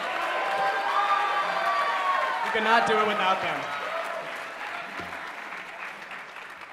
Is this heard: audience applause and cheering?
yes